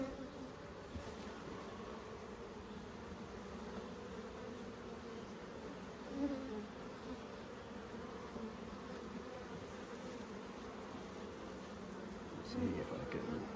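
Honey bees buzz around a hive with capped brood as foragers bring in pollen, a dense continuous drone of many wings close by with slight swells, steady throughout.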